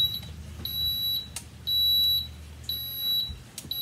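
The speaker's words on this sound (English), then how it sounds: "So as you hear, it just beeped." A Cuisinart vertical waffle maker gives its ready signal, a series of short, high electronic beeps in a quiet kitchen, repeating in a clear on-off pattern at close range.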